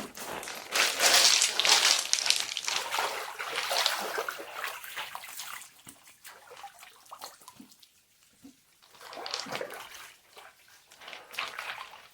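Water splashes and pours while someone freshens up outdoors in the Sahyadri hills, starting as a loud rushing burst, easing into softer sloshing, then rising again in short surges, with no voices.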